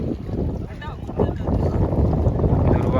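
A fishing boat pulls into Vashi harbour in rainy, stormy weather: a steady broadband engine-and-water rumble, close and loud, mixed with gusty wind buffeting the microphone, and a faint murmur of voices underneath.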